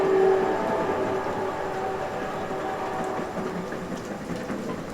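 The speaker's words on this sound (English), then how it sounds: "every time I mention Talk About It, a train goes by." A train rumbling past continuously with a steady roar and some faint tonal squeal near the start, fairly loud and sustained, heard near a podcast recording space with no speech over it.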